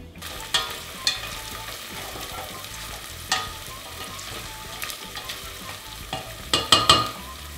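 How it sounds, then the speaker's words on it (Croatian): Onion and garlic cooking in oil in a pan give a steady soft sizzle, with a few louder clatters from stirring scattered through and a cluster near the end, with no talking. "i to ćemo prodinstati."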